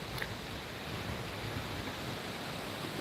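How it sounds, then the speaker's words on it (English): Water rushes steadily through a small spillway beneath a bridge, a constant broadband roar that stays even and unbroken from start to finish. "this is like a little spillway underneath this bridge"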